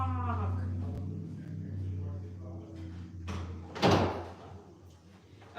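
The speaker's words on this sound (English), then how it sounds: "Okay, I closed the door" A door is closed indoors in a home, a brief knock and thud near the middle after a low steady hum, fairly close and moderately loud with faint voices in the background.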